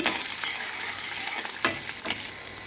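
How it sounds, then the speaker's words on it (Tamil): Urad dal and garlic sauté in a pan for thuduvalai chutney, giving a steady close sizzle with scraping stirs breaking through every second or so, and no voices. "கொஞ்சம் வணக்கிக்கலாம் அப்படியே உளுந்தும் போட்டுடலாம் ஸோ உளுந்து போட்டுக்கலாங்க பூண்டு போட்டுடுங்க"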